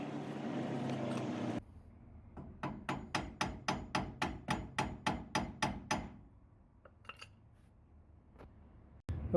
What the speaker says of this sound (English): you'll have to hammer out the pin that holds the kingpin in.